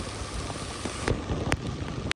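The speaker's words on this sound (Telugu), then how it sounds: "మళ్ళీ వర్షం అయితే దంచేసింది" Heavy rain pounds a highway between Shillong and Guwahati, a dense close patter with sharp splashy bursts and knocks toward the end, ending abruptly.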